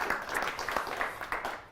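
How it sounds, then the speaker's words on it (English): Brief burst of audience applause at the close of a talk about perceiving facades in VR, a dense steady patter of many hands clapping for under two seconds. "A round of applause."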